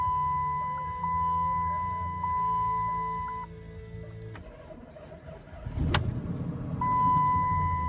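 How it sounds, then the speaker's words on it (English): A car with 215,000 miles gets its first cold start of the day: steady warning chimes and a hum give way to a sharp crank and the engine catching into a low idle, with no talking. "I'll give you guys a little cold start here"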